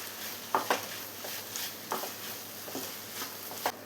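Curry leaves and green chillies sautéed in a pan for a shredded chicken dish, a faint frying hiss with a few soft stirring scrapes and clicks at irregular intervals.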